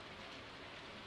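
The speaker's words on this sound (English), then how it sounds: "I love the sounds of rain on the inside here" Steady rain heard from indoors in the video game Stardew Valley, a continuous soft even patter with no talk over it.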